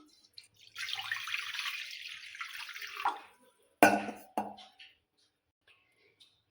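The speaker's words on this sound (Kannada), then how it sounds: "ಇದಕ್ಕೆ ನೀರು ಹಾಕ್ತಾಯಿದ್ದೇನೆ." Water poured into a pot while making coconut-filled kadubu: a steady splashing pour for about two seconds, followed after a pause by a sharper splash and a few drips, with no talking.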